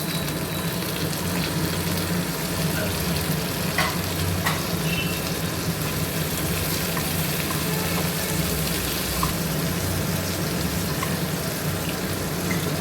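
Onions frying in a pan after ginger and garlic for a chicken curry, a dense constant sizzle with faint stirring clicks, close and loud with no talking throughout.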